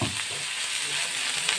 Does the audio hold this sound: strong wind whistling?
no